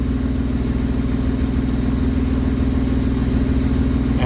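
A turbocharged Honda Beat E07Z engine runs hard on a dyno, a steady, loud, close mechanical drone with a strong low hum and no pauses.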